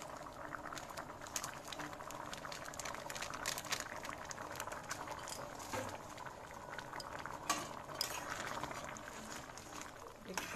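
Ghugni bubbling in a pot, a close, steady burbling boil with soft pattering and occasional utensil clinks, under a voice.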